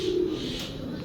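A pigeon coos once nearby, a low soft throaty call at the start that fades into quiet background.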